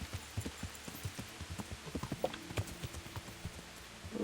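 Horse hooves clip-clop in the Kingdom Come: Deliverance video game, with a steady walking rhythm of distinct, fairly quiet hoof strikes.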